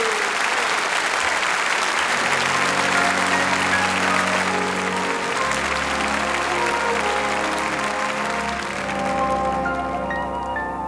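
Audience at a 1990 big band concert breaks into loud, sustained applause that fades as the band begins to play, with brief voices mixed in.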